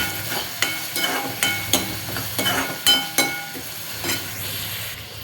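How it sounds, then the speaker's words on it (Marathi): Chopped onion frying in a pan for a whole masoor dish, a steady broadband sizzle with repeated sharp stirring clinks and scrapes at a fairly even rhythm, close and moderately loud. "चॉप केलेला कांदा मी छानपैकी लालसर असा भाजून घेत आहे"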